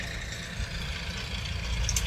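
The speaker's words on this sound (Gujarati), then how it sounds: "હા અહીંયા લો આ ટ્રેક્ટર હાલે." A tractor engine runs steadily beside a farm field, a continuous low rumble with broadband noise throughout, close and fairly loud, with no talk over it.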